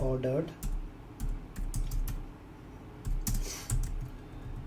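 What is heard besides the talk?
typing a question on a computer keyboard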